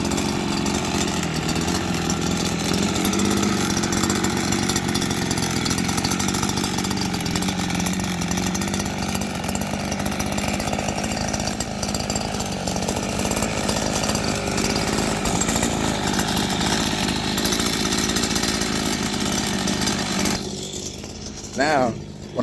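Small 49cc Chinese dirt bike engine on a homemade drift trike, running steadily with a buzzing, chainsaw-like drone close by, with a voice talking over it; the engine cuts off near the end.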